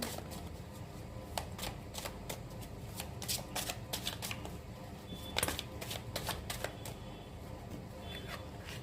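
Tarot cards shuffled by hand for a seven-card partner reading, a steady, close riffling and flicking of card stock with sharp snaps as cards are drawn, continuous throughout with no voice over it.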